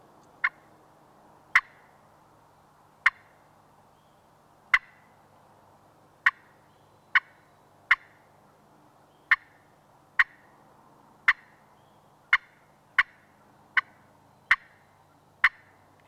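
Short, sharp turkey clucks made with a striker drawn in brief lines across a slate friction call, about fifteen evenly spaced single clicks spread over the stretch, close and clear against a quiet background.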